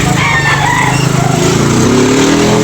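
A young rooster, a stag, crows at a busy gamecock market amid loud, constant crowd and engine noise that nearly swamps the call.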